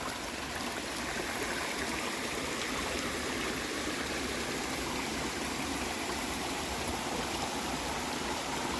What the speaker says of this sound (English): I wonder where this water's coming from.